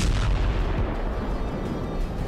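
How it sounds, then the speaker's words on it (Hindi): Explosions from Israeli air strikes in Beirut, a dense, rumbling wall of low booms and crackle heard at a distance, loud and sustained throughout without any voices. "लेबनान की राजधानी बेरूत में कई शक्तिशाली विस्फोट हुए।"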